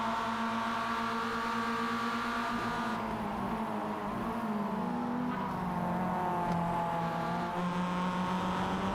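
A Mazda race car on a circuit engine screams steadily through the full stretch, pitch dipping and shifting as it brakes late while defending the inside line, loud and close with no talking.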